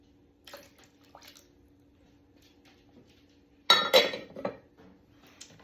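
Milk, a cupful, splashes into a bowl of egg mixture for a breakfast casserole in a short, close burst of liquid pouring with a light clink, after a few seconds of quiet kitchen sounds, with no talking.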